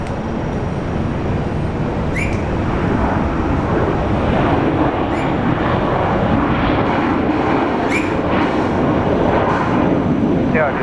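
A passenger airliner lands at Brisbane International Airport in stormy weather, its steady engine roar broad and continuous throughout, with voices talking intermittently over it.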